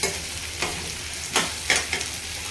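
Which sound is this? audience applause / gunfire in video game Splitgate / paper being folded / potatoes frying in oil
potatoes frying in oil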